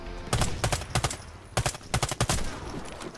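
Rapid bursts of gunfire from a gun in the online shooter Warface, several short volleys with brief gaps between them, loud and close with no talking.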